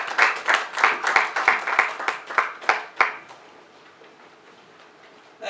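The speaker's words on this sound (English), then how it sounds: "A round of applause as Dr. Caroline Elisa comes up" Applause from the audience at a mental health NGO launch as a speaker comes up: a few seconds of loud, fairly rhythmic clapping close by with distinct individual claps, fading out into near silence.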